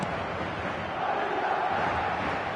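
A large stadium crowd roars at a Spanish League football match in eFootball 2026, a dense, steady wash of cheering and chanting that swells slightly midway.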